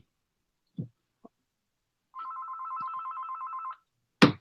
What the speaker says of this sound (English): That's a house phone.